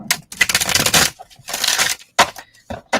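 Crystals shuffled by hand during a daily oracle reading, heard as bursts of clattering, rattling stone-on-stone clicks in three or four bouts with short pauses, close and fairly loud, no talking.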